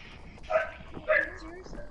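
Allie the dog gives two short barks close by, evenly spaced, with faint background voices murmuring underneath.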